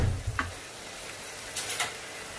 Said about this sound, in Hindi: अभी इनको अच्छे से मिला लेंगे।